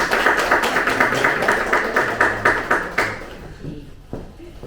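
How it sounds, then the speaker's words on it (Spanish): Applause from a seated audience in a room at the close of a talk on digital platforms for the energy transition: a steady patter of claps, fairly loud and close, then thinning out and fading to scattered claps within a few seconds. "Le mandamos un aplauso de la sala también."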